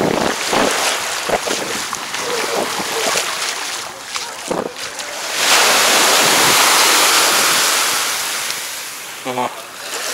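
Light sea swell breaking on a Mauritius shore, with a breeze gusting across the microphone. Broadband wash rises and swells in the middle, with people's voices and brief knocks scattered over it.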